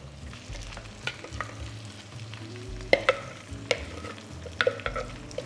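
Curry paste with cumin seeds and bay leaves fries in a pan, a low steady sizzle broken by scattered stirring clinks and scrapes, close by with no talk.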